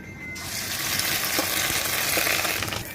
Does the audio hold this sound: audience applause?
no